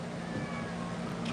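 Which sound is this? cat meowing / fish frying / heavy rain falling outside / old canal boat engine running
cat meowing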